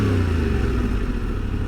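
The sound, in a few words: motorcycle engine revved with clutch held in, throttle blip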